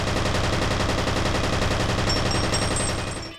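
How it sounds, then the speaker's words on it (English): Rapid automatic weapon fire from the F.E.A.R. video game, a dense continuous stream of loud shots with no gaps, ending with a brief tail as the burst stops. "With automatic weapons, the gunshot sound effects don't even come close to actually lining up with your shots."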